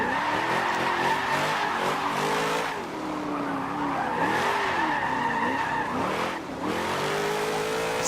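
Race car in Forza Motorsport 7 roaring close and loud, its engine note rising and falling through gear changes with squealing tires, continuous over several seconds.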